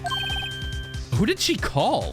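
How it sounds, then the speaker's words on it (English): A phone in the Ace Attorney video game rings with a short, repeated electronic trill of rapid beeps. Then the ringing stops and a person speaks. "I heard a phone ring just now."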